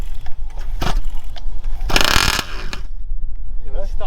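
A flooded nitro engine on a Taylor 50GT RC car is cranked with a touch of throttle, sputtering in short rough bursts with a loud raspy surge midway, while people talk close by.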